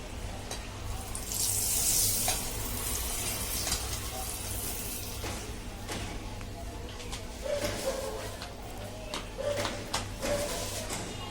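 Gram flour roasting in ghee in a pan sizzles steadily while a spoon scrapes and stirs, with scattered clinks and soft knocks from the utensil over the continuous frying hiss.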